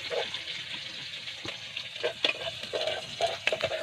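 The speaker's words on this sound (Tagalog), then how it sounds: "Gigisa natin mga kapisbok." Worms sautéing in a pan give a soft sizzle with scattered stirring clinks and scrapes, quiet and close, with no talking.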